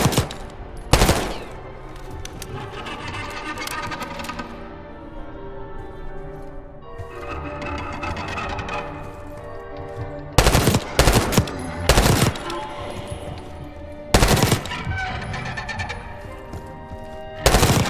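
Gunfire rings out in the video game Black Ops 6, with loud automatic bursts and sharp single shots in close, violent clusters separated by quieter stretches of tonal game score and ambience.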